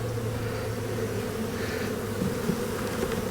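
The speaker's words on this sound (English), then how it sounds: "Got a lot of bees on them." Honeybees swarming over full frames of honey in a hive yard, a steady close droning hum with constant buzzing and no voices.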